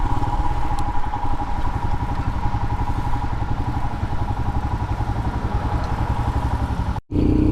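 A 2021 Royal Enfield Himalayan BS4 single-cylinder motorcycle rolls along with a steady, pulsing engine thrum and light rattles as it bumps over curbs, then cuts out abruptly near the end before picking back up.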